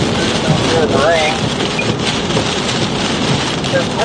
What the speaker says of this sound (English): Here's the rain.